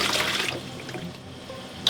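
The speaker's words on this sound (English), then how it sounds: "So this is where I put in water." Water is poured into a yogurt maker as a steady splashing rush that eases into a softer trickle, close and alone.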